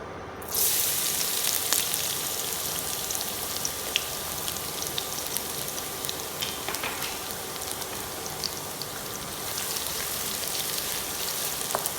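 Chopped garlic hits hot oil and bursts into a loud, even sizzle that holds steady and close throughout, with small pops scattered through the hiss.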